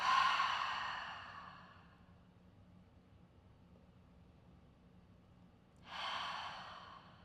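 A deep, slow exhale during a gentle morning yoga flow trails off into quiet, then a fresh breath begins near the end; close and soft, with no talking.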